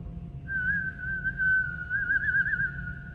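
A baroque trumpet player makes a whistling-like extended technique with tongue and lips, a single sustained thin tone with slight wavering that starts half a second in and holds to the end, close and without talk.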